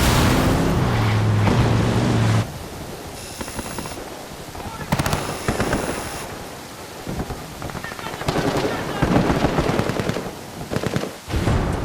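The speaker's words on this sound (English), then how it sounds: "This camp is now erupting into a full gunfight between the rebels and the Santa Blanca." Gunfight between rebels and Santa Blanca cartel fighters at a camp in Ghost Recon Wildlands, with bursts of automatic gunfire and scattered shots over busy game ambience, loud throughout.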